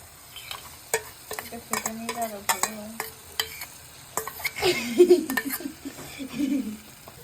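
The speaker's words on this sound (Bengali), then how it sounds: "এটা আমরা নেড়ে নিচ্ছি আমরা লাল মরিচ গুঁড়ো দিয়ে দিয়েছি" Chicken with yogurt and red chilli powder is stirred in a frying pan for a Pakistani chicken dish, with close spatula scrapes and clacks over a steady sizzle. A voice is briefly heard.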